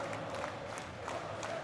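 Audience at the Savestate of Origin speedrun event cheering and whooping in a continuous noisy wash, with scattered louder shouts rising through the crowd.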